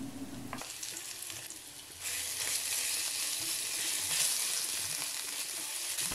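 Garlic and ginger drop into hot oil with cumin, setting off a steady, close sizzle that swells louder partway through and keeps crackling evenly without any talk.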